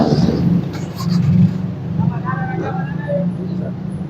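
A car worth about 20–22 lakh idles and creeps forward in traffic at Pirwadhai, Rawalpindi, its low engine rumble steady and close while people talk over it.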